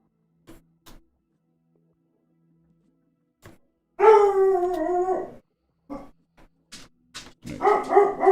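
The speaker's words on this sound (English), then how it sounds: "see what my dogs are going nuts about" Several dogs bark in short, scattered yelps, then break into a long wavering howl, followed by more barks and another rising howl.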